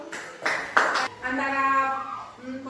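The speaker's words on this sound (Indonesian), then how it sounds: "Tepuk tangan untuk Aslam dulu" A short burst of classroom clapping for a student, a few scattered rounds of hands over about a second, quickly giving way to a voice talking.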